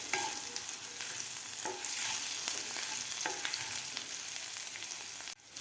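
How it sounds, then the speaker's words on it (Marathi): Grated ginger, cumin seeds and green chilies sauté in hot oil in a pan, a continuous close sizzle and crackle with scraping stirs of a spoon across the pan, steady throughout with no talking. "व्यवस्थित आपल्याला परतून घ्यायचं आहे आलं,"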